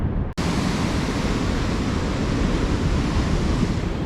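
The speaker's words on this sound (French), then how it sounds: "les vagues sont énormes" Huge ocean waves crashing onto the shore in Morocco, a loud, continuous roar of surf with wind buffeting the microphone, uninterrupted apart from a brief dropout at the start.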